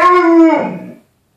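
A single close, loud dog howl rises and fades out over about a second, with no speech over it.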